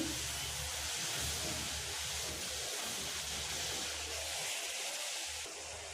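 Vegetables sauté in sesame oil for a mixed-vegetable chutney, making a faint, continuous hiss and sizzle that stays even throughout, heard alone without voices.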